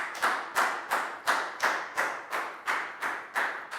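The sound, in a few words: class clapping for Dan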